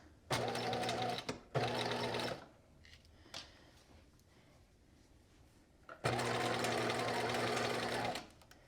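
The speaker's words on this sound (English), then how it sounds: "I'm stitching with a 5/8 of an inch seam allowance." A sewing machine runs zigzag stitches 2.5 by 2.5 wide and long along a 5/8-inch seam in a knit pencil skirt, in two short bursts and then one longer steady run, close and clear, with quiet pauses between and no talking.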